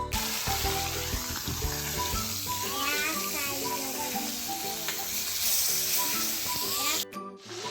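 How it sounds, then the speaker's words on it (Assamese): Fish fries in hot oil in a wok, giving a steady, loud, close sizzle that carries on for several seconds before easing slightly at the end. "এয়া মাছ ফ্ৰাই হৈ আছে"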